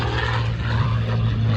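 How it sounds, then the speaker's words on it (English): A Packard-built Merlin-engined plane at an air show drones steadily overhead, its engine a continuous, loud, low hum with no gaps throughout. "Packard built these aircraft engines, these Merlin engines, as Doug does the 8-point hesitation roll"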